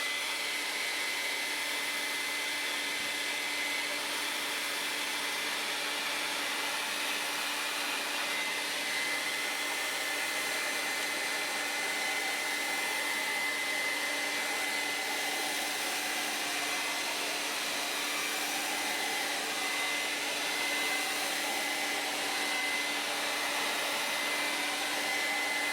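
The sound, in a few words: blow dryer drying paint on paper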